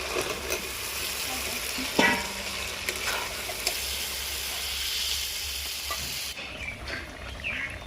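Potatoes and soybeans frying in ghee in a pan, a soft continuous sizzle with scattered stirring scrapes and clicks, moderately quiet, no talk.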